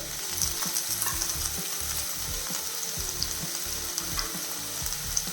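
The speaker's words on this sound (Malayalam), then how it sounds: "ഇത് നല്ല രീതിയിൽ നമുക്കൊന്ന് വഴറ്റണം" Onion and green chillies sauté for a chicken curry, giving a steady close sizzle broken by repeated rhythmic scrapes and knocks of a spoon stirring the pan.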